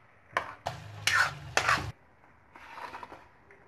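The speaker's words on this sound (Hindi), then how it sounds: "अब इसको हम अच्छे से मिक्स कर लेंगे।" Khoa being stirred into hot grated carrot halwa in a pan: four close, thick scraping strokes with a soft sizzle, followed by a few quieter stirs.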